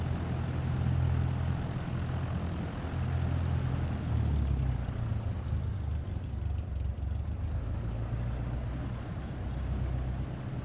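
Aircraft engine in Microsoft Flight Simulator 2024 drones steadily during takeoff on an east-west runway, a loud, even, low rumble with a broad roar above it that holds for the whole stretch without speech.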